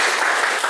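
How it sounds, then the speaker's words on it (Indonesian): A classroom of students claps together, a brief burst of dense, close applause. "tepuk tangan untuk kita semua"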